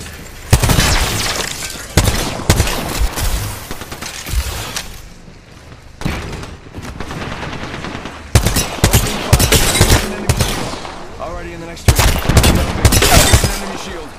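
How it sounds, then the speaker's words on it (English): A video game firefight rattles out loud bursts of automatic gunfire in several separate volleys with brief lulls between them. "The enemies are shooting at me."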